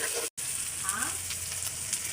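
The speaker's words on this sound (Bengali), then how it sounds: "শুধু তেলেই ভেজে নেব।" Spice paste of crushed garam masala frying in hot oil without water, a steady close sizzle with a brief gap early on, no talking.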